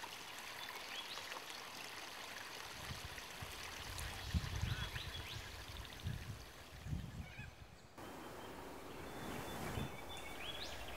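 Water of the Nepean River flows and trickles steadily over stones, a continuous close rushing murmur with brief louder gurgling surges midway, no voices present.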